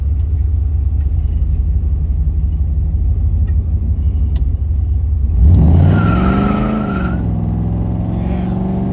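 A 1972 Plymouth Barracuda drives on the road with a steady low interior rumble, then the engine note swells and climbs louder partway through before settling back.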